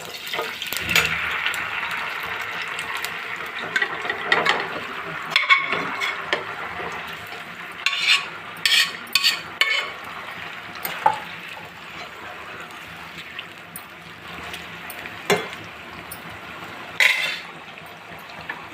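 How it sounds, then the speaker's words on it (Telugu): Mutton fries in hot oil with green chilli and curry leaves, giving a continuous close sizzle broken by sharp scraping and stirring clicks from the pan, with a few brief louder spatters. "నేను ఆయిల్ పెట్టుకున్నాను, ఒక పచ్చిమిర్చి, కొద్దిగా కరివేపాకు. మటన్ వేసేస్తున్నానండి నేను."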